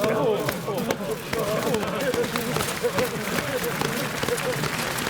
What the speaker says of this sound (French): Les mecs sont en panique en train d'applaudir.